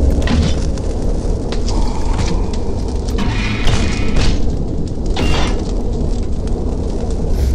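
Fire roaring steadily in a sci-fi station furnace in Viscera Cleanup Detail, with a dull thump and burst as something lands in the flames; the burning stays loud and constant throughout.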